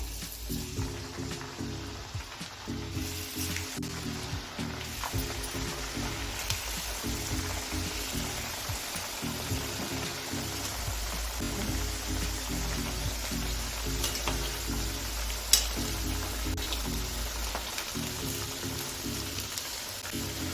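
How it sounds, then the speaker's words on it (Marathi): Talan fritters frying in hot oil for a Parbhani-style talan kadhi, giving a steady, even bubbling sizzle throughout with a faint rhythmic mechanical hum underneath. "बघा आपलं तेल तापत आलेलं आहे त्यामध्ये आता तळण तळून घेऊया"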